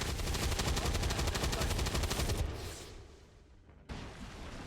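Rapid automatic gunfire from a gunner in XCOM 2 rattles in a dense burst for a couple of seconds, then fades into a decaying echo before a single sharp shot cracks near the end.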